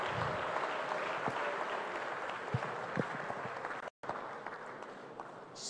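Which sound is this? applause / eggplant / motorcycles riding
applause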